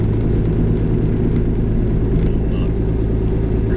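Steady low rumble of a car interior while driving behind another vehicle on a snowy, icy road, a loud constant engine and road drone with faint background noises.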